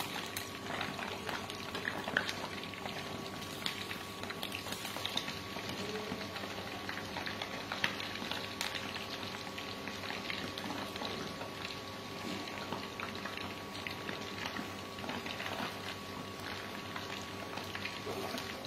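Paneer fries in a pan of hot oil with a steady, dense sizzle and crackle that goes on unbroken, fairly faint and close, with no talking.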